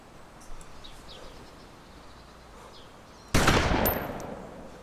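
A single sawn-off shotgun blast from DayZ Standalone bursts out sharp and loud near the end, trailing off in a short decay over a quiet outdoor backdrop with faint bird chirps.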